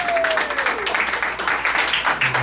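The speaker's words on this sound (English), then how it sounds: "Come on, a big clap. Clap your hands." A church congregation claps and applauds together in a steady, continuous burst during a Sunday service, with a faint voice in the background.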